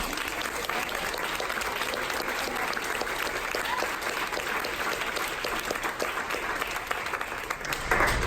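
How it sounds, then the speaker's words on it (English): Steady audience applause fills the room after a school panel, dense and sustained clapping throughout with a brief louder swell near the end. "Just give them a round of applause for coming."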